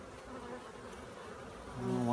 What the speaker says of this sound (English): Another big frame of bees.